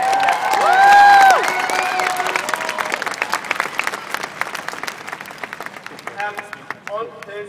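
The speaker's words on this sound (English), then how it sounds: "You give yourself a huge round of applause." A large crowd at a political rally for banning live export bursts into loud applause with cheering and whistles, then thins into scattered, uneven clapping that trails off.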